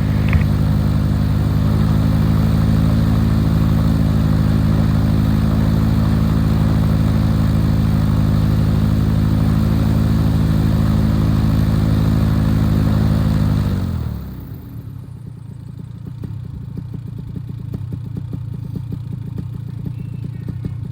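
A Vitorazzi EFI paramotor engine drones loudly at a steady 4,000 RPM during break-in, then abruptly winds down to a much quieter, lower idle.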